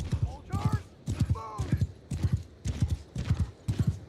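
Rapid, rhythmic hoofbeats of a galloping horse in the video game Warsails, in repeating bursts, close and fairly loud, with a few brief high squeals between strides.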